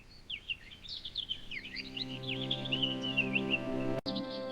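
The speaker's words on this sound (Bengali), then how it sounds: "পাখি আবার ডাকছে।" Birds chirping in a storybook forest scene, a string of quick high tweets over a low tonal music bed, fairly faint.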